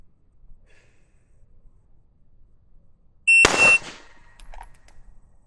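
A single sharp Glock 17 Gen 6 pistol shot cracks loudly at a shooting range, followed by a brief ringing tail and a faint electronic beep, with otherwise quiet surroundings.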